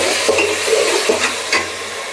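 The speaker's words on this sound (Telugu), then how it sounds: "అల్లం తెల్లగడ్డ పేస్ట్ అన్నమాట వేసి అయితే కలుపుకుందాం బాగా పచ్చివాసన పోయే వరకు" Onions, green chillies and ginger garlic paste stir and fry in a hot pan, steady sizzling broken by several scraping spoon strokes in a loose rhythm, close and clear with no talk.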